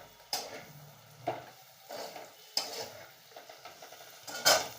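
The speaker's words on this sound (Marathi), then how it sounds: "आता याच्यात वरून कोथिंबीर टाकूया थोडीशी, कोथिंबीर टाकल्यावर थोडीशी परतून घेऊया।" Spatula scraping and stirring dry potato bhaji with coriander in an oil pan, several distinct scrapes over a faint sizzle, fairly close and clear with no talking.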